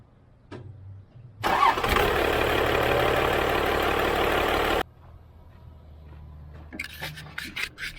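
A Cummins diesel in a 1966 Dodge crew cab cranks and catches, a loud rough roar for about three seconds that then cuts off, leaving a quieter idle-like rumble with some clanking afterward.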